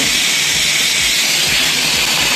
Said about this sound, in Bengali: আলুটা ভাজা হচ্ছে